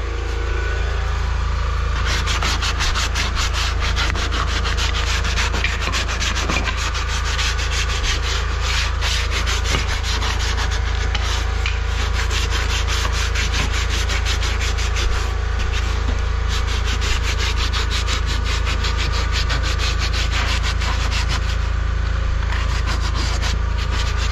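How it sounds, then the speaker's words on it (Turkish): Continuous rough rasping of sandpaper rubbing against wood, steady and close, running unbroken under a constant low engine hum. "Şu zımparala."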